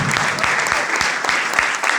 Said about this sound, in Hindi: तो जोरदार तालियां डायमंड के लिए